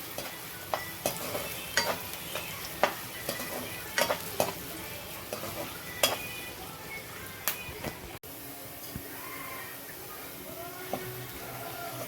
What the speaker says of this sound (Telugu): అలాగే వెల్లుల్లిపాయలు కొంచెం దోరగా వేగనిద్దామండి